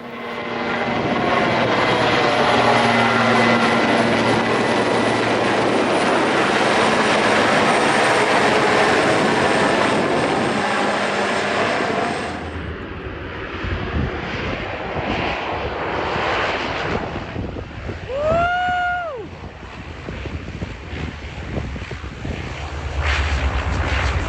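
Loud, steady roar of low-flying Canadair water-bomber engines passing overhead, then fading into quieter background noise with a brief rising tonal whine.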